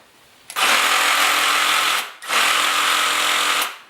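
A RIDGID GEN5X cordless saw motor runs with no blade fitted, whirring loudly in two long bursts of about one and a half seconds each, with a brief spin-down pause between them.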